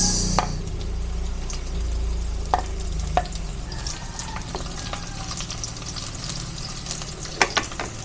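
Onions sauté in a hot frying pan with a steady close sizzle, punctuated by occasional clinks and scrapes of a utensil as they are stirred.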